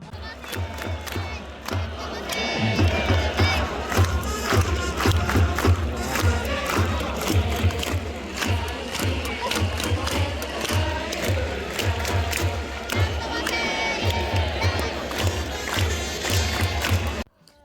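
Baseball crowd at a Yokohama BayStars game chanting in a steady rhythm over loud, repeating drum beats, the massed voices sustained and dense throughout before cutting off at the end.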